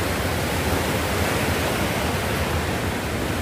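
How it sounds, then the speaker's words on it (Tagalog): Strong ocean waves at a beach resort in Real, Quezon Province roar continuously, a dense, loud wash of surf with no pauses and no voices. "Malakas pa rin yung alon."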